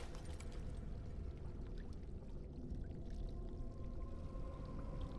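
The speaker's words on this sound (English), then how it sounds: "Fill the jug with water." Water pours into an earthen jug in the video game Dragon Age Origins, a faint, steady trickling gurgle with no voices over it.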